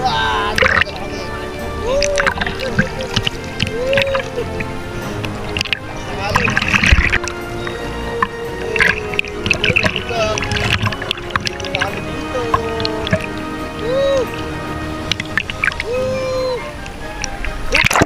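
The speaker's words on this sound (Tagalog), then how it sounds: "Lakas ng alon." Strong waves splash and slosh against a small boat at sea, with steady choppy water noise throughout and voices talking over it.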